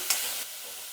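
Curry leaves and grated ginger fry in a pan, making a brief, fairly faint hissing sizzle with a sharp crackle near the start, then a softer steady fizz. No one speaks.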